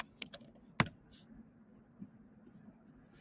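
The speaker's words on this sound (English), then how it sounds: "we can type in the word plot again." Quiet typing on a computer keyboard, a few sparse key clicks with one sharper tap near the start, then mostly soft room tone.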